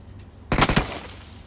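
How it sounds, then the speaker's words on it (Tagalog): A short burst of three or four quick gunshots erupts from behind in a battleground shooter game, sharp and loud after a quiet moment, then fades. "Uy, may bumabaril sa likod."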